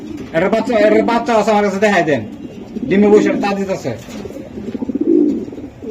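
Budapest racer pigeons coo in low, throaty bursts, mixed in with someone talking close by.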